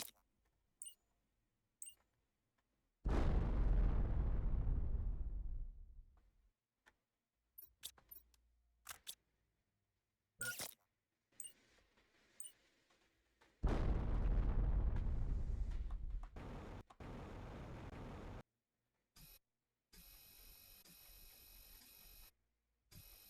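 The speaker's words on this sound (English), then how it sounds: "Those bombs do a great workings on this." Bombs exploding in the video game Planet Crafter inside a toxic tunnel: two heavy booming blasts with long rumbling decays, separated by scattered clicks and short game sounds.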